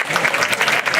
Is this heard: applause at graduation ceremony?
yes